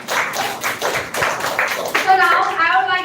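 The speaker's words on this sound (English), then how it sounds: "please once again clap for her" Audience applause at a women's education speech event fills the first two seconds as dense, fairly loud clapping, then gives way to a voice.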